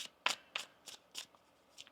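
Tarot cards are shuffled in six quick riffling bursts, evenly spaced and close up, with no talking.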